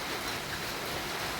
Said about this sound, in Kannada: ಹೊರಗಡೆ ಇಷ್ಟೊಂದು ಮಳೆ ಬರಕತ್ತೈತಿ